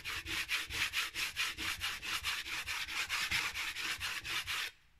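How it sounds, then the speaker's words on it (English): A putty knife repeatedly scrapes leftover body filler off a cardboard mixing board in a home garage doing body work on a Suzuki Sidekick, a close, rhythmic rasping of about twenty quick strokes before it stops. "I just go with the other putty knife and scrape it off and throw it on the ground."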